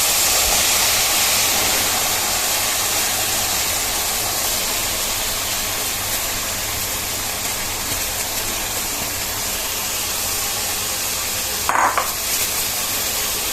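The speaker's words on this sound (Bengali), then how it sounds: "ভুনা করে ভেজে নিচ্ছি মশলার ভিতরে" Lentils fry in a spice masala in a pan for dal chorchori, giving a steady, close sizzling hiss that runs throughout. A brief utensil clink sounds near the end.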